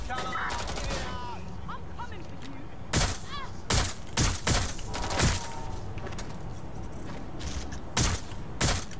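Gunfire in the Watch Dogs: Legion video game, a series of sharp loud shots in bursts and single cracks over a busy background, with a voice talking between them.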